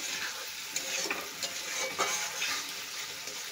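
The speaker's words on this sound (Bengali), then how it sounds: "শুধু এইরকমভাবে নেড়ে নিলে হয়ে যাবে।" Hog plum and fish curry is stirred in a pan, bright sizzling frying with repeated scraping strokes of the spoon in quick rhythm, close and continuous.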